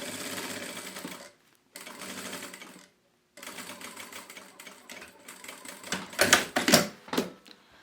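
A sewing machine stitches a seam on a fabric toy storage basket in several runs, a close mechanical whirring broken by short pauses, rising louder toward the end, with no voices.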